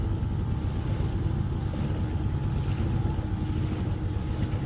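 A small outboard motor on a river hums as a steady, low, droning rumble with constant wind and water rush, close and unbroken, without speech.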